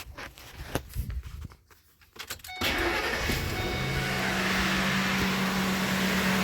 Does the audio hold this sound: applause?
no